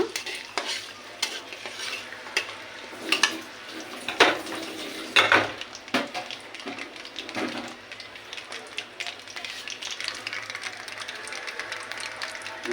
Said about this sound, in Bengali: এখানে আমি কিছু আস্ত রসুন দিয়ে দিলাম, ভেজে নেব হালকা।